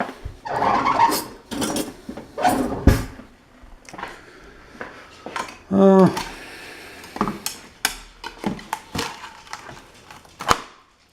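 Homemade peanut brittle being cracked, with a run of sharp snapping and splintering cracks through the middle, surrounded by clattering handling noises and bits of talk.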